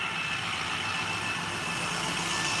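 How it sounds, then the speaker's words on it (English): A school bus idles at a park, a steady low engine rumble with broadband hiss throughout, fairly close and constant, no voices. "School bus pulling up"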